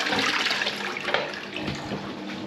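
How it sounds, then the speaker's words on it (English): A public toilet at a community centre flushes with a loud, close, steady rush of water that continues throughout, with gurgling under the torrent. "we're going to give the toilet another flush"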